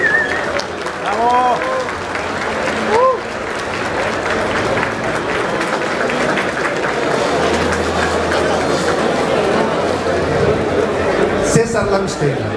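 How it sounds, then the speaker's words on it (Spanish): Strong, sustained audience applause at the inauguration ceremony of an audio trade expo, dense and steady throughout, with whistles and cheers over it and a voice speaking through the clapping. "Para lo cual pido un fuerte aplauso"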